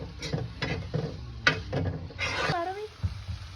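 A spoon scrapes and clatters as eggplant (vankaya) curry with green chillies is stirred in a pan, with soft sizzling and intermittent clinks, while people talk over the cooking.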